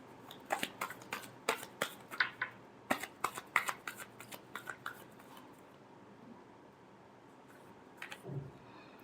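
Tarot cards are riffled and shuffled in a run of about a dozen crisp, close snapping bursts over roughly five seconds, then a pause and one last soft shuffle, with no talking.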